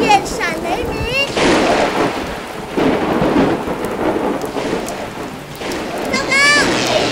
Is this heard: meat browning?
no